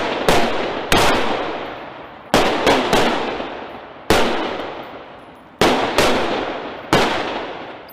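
Live-fire gunfire on a shooting range during Navy SWCC training, with loud sharp shots in uneven bursts of two or three that each ring out and decay before the next volley.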